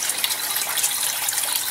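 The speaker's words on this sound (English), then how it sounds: "And I've finally got a waterfall." Water pouring steadily from a slit cut in the handle of a Folgers coffee can, forming a small DIY waterfall in a basic aquaponics setup; a continuous close splashing rush with no pauses.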